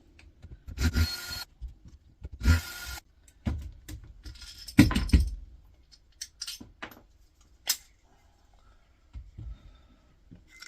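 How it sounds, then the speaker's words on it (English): Screws being backed out of the steel casing of a juice maker during scrapping, heard as a series of short, close clicks, rattles and metallic scrapes spread irregularly over several seconds with quiet gaps between them. "Let's get these screws out first."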